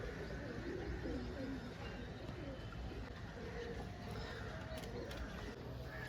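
White homer pigeons coo softly at a bird market, low murmuring calls under steady background noise, with someone talking nearby.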